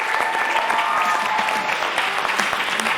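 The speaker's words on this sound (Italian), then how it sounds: "un applauso anche a Mara" Steady applause from a crowd honoring a teacher, dense continuous clapping that stays even and full for the whole stretch, with a faint voice briefly underneath.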